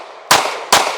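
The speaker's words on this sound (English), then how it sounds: "117 first shot on a mini popper at 10 yards." Two pistol shots at a steel mini popper 10 yards away, each a sharp, loud crack with a ringing metallic tail, about half a second apart.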